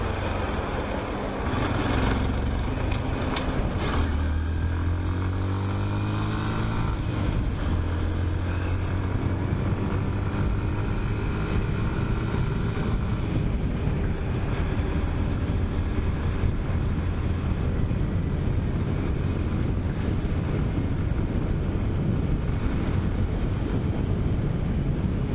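A Honda Grom motorcycle rides down a highway, its small engine droning steadily with a rising pitch through gear changes early on, buried in constant heavy wind rush and road roar.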